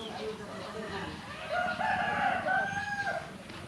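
On a Philippine family farm, a rooster crows over the clucking of chickens, the crow rising mid-clip over a steady bed of farmyard noise.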